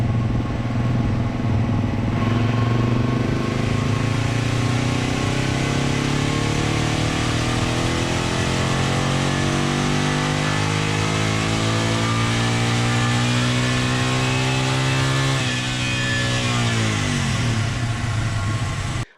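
A Yamaha TW200 motorcycle roars steadily on a dyno run in 4th or 5th gear, its engine note climbing gradually in pitch over a long pull before cutting off abruptly at the end, loud and close with no talking.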